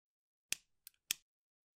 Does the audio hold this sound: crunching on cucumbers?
no